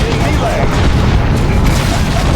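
A grenade blast in the Warhammer 40,000 strategy game Dawn of War II, heard as a dense, loud, sustained low rumble with battle noise and voices mixed in.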